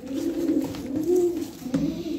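Tumbler pigeons of the maviş type from Kocaeli coo in low, rolling, sustained murmurs, close and prominent, with a faint voice in the background.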